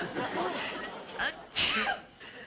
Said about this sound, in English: Boy, that was some sneeze.